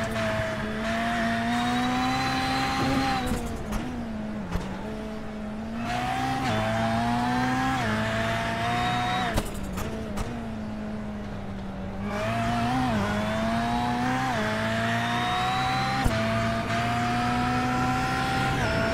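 Onboard a NASA Rallycross Lites car racing a heat lap in Iowa, the engine howls close and loud, pitch climbing and dropping through gear shifts and lifts, with gravel and tire noise beneath.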